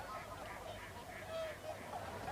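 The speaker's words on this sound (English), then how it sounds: "Those, yes, those are the shell ducks, the large ones." Shelducks, the largest British duck, give a string of soft honking calls at a lakeside, moderately distant and steady across the stretch with no talk over them.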